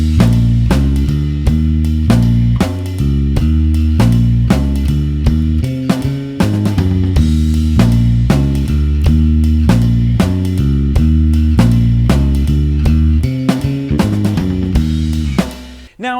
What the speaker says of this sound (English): let's have a look at another riff,